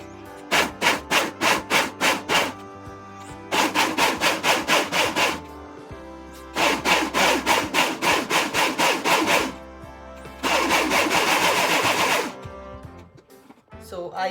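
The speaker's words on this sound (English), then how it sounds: "So you need to grind it in a way that you pulse it little by little and then you grind." A mixer grinder pulsing onion tomato chutney, loud whirring bursts in short rapid pulses followed by longer continuous grinding runs with brief pauses between them.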